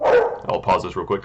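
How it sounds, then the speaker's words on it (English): Dog barking indoors in a few short, sharp bursts, close by and mixed in with someone talking. "I apologize for the dog barking."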